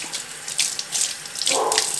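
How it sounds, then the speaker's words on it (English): Water runs from a faucet into a double sink, an even splashing hiss with a few brighter spatters and a fuller gurgle near the end, close and clear with no talk. "This part here is called the faucet and the handle"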